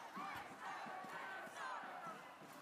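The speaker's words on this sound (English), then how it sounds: "Just so you understand how giant these crowds were." A large protest crowd shouts and chants together in a dense, continuous roar, voices rising and falling in waves throughout, heard as a recording played back.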